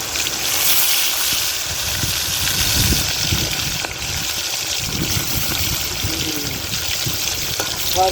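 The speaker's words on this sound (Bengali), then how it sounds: "মাছ দেওয়া হয়ে গেছে।" Fish fries in hot oil for a fish curry, a steady loud sizzling crackle that continues throughout at close range.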